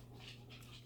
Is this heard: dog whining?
yes